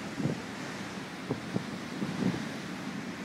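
Strong force 8 wind blowing over the open sea aboard a small boat: a steady, fairly quiet wash of broadband wind and water noise with a few brief thumps and gusts.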